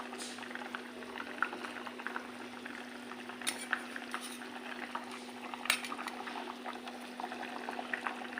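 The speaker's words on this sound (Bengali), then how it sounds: "দেখো বন্ধুরা, মাছের ঝোলটা ফুটছে।" Hilsa fish curry with gathi kochu boiling in a pan, a steady low bubbling simmer with a constant hum and occasional faint clinks, moderately quiet throughout.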